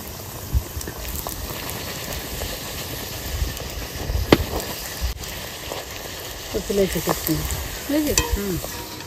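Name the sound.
semolina luchi frying in hot oil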